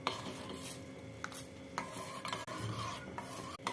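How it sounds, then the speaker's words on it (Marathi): Jaggery is stirred in a pan until it dissolves, a steady close scraping and rasping of a spoon against metal with a few brief clinks and a faint sizzle underneath. "गूळ विरघळेपर्यंत आपण याला थोडंसं हलवून घेऊया."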